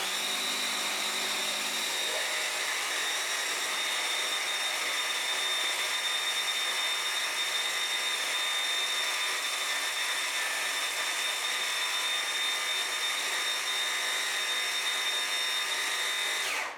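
A blender on its turbo setting whirs at high speed through frozen berries and cream, a loud, steady whine that holds for the whole stretch after a brief start-up.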